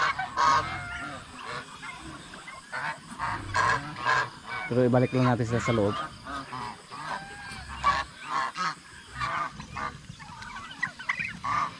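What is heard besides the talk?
ducks honking on a farm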